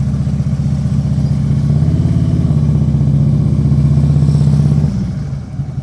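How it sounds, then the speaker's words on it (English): A motorcycle rolls slowly through a U-turn in a home driveway, its engine idling and rumbling at low speed in a steady, close putter that fades slightly near the end. "Did a little U-turn in my driveway. Okay, I'm just riding slowly."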